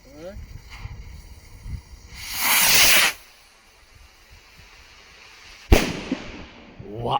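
A Dragon Queen Rocket N6350 firework launches with a loud rushing hiss, then a sharp bang follows a couple of seconds later, with people talking in the background.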